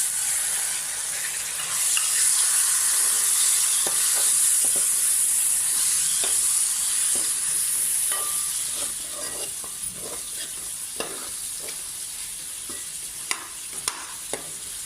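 Green chilli chicken fries in a pan with coriander powder, giving a steady, close sizzle and hiss, while a spoon scrapes and stirs in sharp clicks that grow more frequent toward the end. No one talks.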